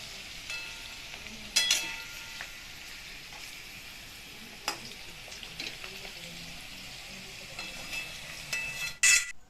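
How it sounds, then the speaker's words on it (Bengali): Potatoes frying in a pan on a gas stove, a faint sizzle with scattered spatters and a few sharper clinks of a utensil. "আলুটা গ্যাসে ভাজা হচ্ছে"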